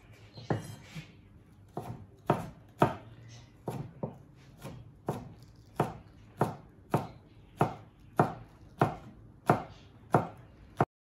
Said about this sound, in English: We're going to chop our spring onions into thin slices.